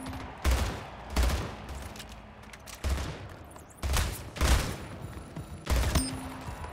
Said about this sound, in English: She just stuck us with pistols.